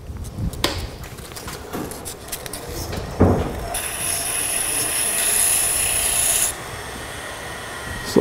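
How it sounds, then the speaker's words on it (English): A spinning wooden toy top on a lathe is sanded with 120-grit sandpaper, giving a steady raspy rubbing hiss that swells louder midway and then eases off, with no talk. "I'm just going to hit that with some sandpaper. Starting out with some 120"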